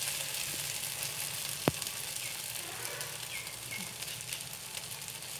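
Thin dosa batter spread on a hot pan gives a steady, soft sizzle throughout, broken once by a single sharp tap near the start.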